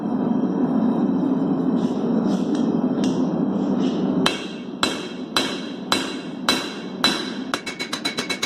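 Hammer striking hot Damascus steel layers while forging a knife by hand: a steady hum at first, then sharp ringing blows at a regular pace, quickening into a fast run of strikes near the end.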